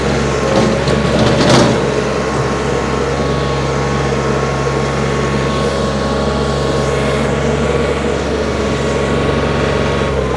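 A 2021 Kioti DK4210 HST compact tractor with loader and backhoe idles steadily below full throttle, its diesel engine droning close and loud with a constant low hum, and a brief louder swell near the start.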